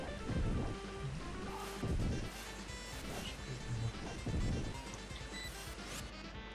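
Rain pouring in The Firemen video game, a dense steady patter with several heavier low rumbling swells like distant thunder, no voices.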